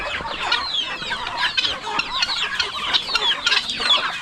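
Several chickens cluck and chatter continuously nearby, overlapping calls forming a busy, restless flock sound with no talking.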